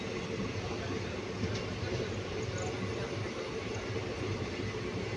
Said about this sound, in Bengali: আমাদের ট্রেন এখন টকিপুর ক্রস করছে